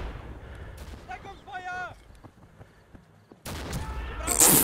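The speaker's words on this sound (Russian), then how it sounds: "На холм прокидываю, профилактическая граната на холм." Gunfire and a grenade blast from the WWII shooter game Red Orchestra: Ostfront 41-45: scattered sharp shots and faint voices give way to a sudden loud, sustained burst of explosion and firing at the end.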